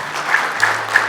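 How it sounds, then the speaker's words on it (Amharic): An audience at a book auction event claps in a dense, steady burst of applause, loud and close, with no speech over it. "አጨብጭቡለት።"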